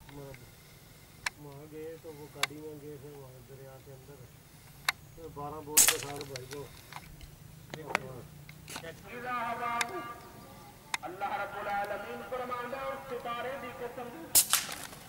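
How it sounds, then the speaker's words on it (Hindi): Sharp, distant shotgun reports crack out a few times during a long-range dove hunt, widely spaced and brief, under frequent excited talk from the hunters. "ये ये शॉट मारी है कमाल कर दी"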